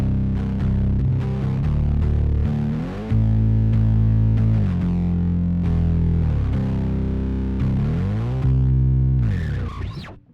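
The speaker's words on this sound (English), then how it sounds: "I'll do the distortion and octave together, and that sounds like this." Bass guitar played through distortion and octave pedals together on a worship pedalboard, loud, thick fuzzy notes sustained and shifting over about ten seconds, with no talking.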